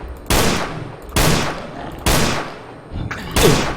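Four loud, evenly spaced gunshots from a weapon in the horror game Project Crypt, each a heavy blast with a decaying tail.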